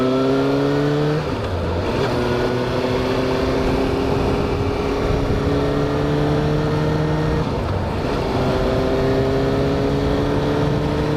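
A Suzuki GSX-S750 motorcycle engine drones steadily while being ridden, loud and close, with brief dips and rises in pitch around gear changes and a constant rush of wind noise throughout.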